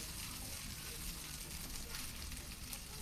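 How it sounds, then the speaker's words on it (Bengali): A cup of chopped onions fries in hot oil for chicken biryani, giving a steady, dense sizzle that holds at an even level throughout with no break. "পেঁয়াজটা আমি কিছুক্ষণ ভেজে বেরেস্তা করে নেব"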